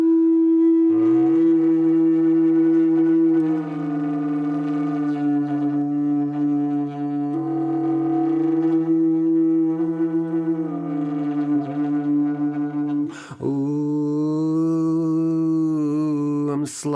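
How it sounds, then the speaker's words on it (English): A Native American flute is played while the player hums through it, the hummed note sliding down to a lower pitch. A steady, buzzy two-toned tone sustains throughout, then a brief scrape and a shift to a brighter tone near the end. "I'm going to slide my humming down to the next lower note."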